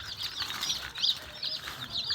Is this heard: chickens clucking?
yes